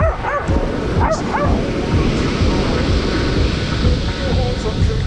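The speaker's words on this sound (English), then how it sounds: "What are you barking at?" A dog barks and yips on a beach in the evening, a quick cluster of sharp barks early on followed by softer whimpering and a continuous rush of background surf-like noise.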